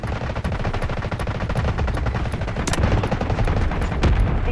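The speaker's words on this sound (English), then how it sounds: "Requesting artillery barrage! Roger that. Artillery barrage incoming." Sustained heavy gunfire and rumbling blasts of an artillery barrage in the Delta Force video game, a loud continuous rattle of rapid shots with deeper booms underneath and no voices.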